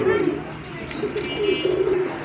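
Pigeons coo in low, throaty bursts close by at a pigeon sale, with a voice talking over them throughout.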